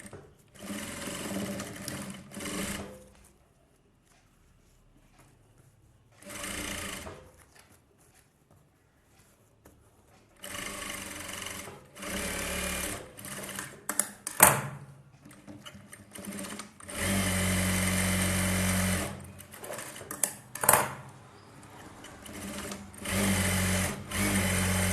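A sewing machine stitches a blouse sleeve in several separate bursts of rapid clattering, with quiet gaps between runs and longer sustained runs toward the end, close up.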